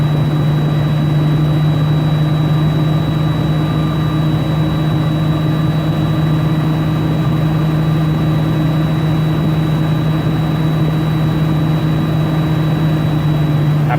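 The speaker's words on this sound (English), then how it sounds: "Keep revving the motor until the air governor cuts off" A truck engine held at steady high revs while building air pressure, a constant loud droning rumble with a faint high whine, running without pause and with no voices.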